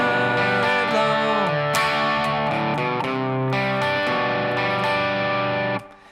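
Distorted electric guitar plays a chorus, loud and sustained power chords ringing with a couple of sliding changes, then cut off abruptly near the end.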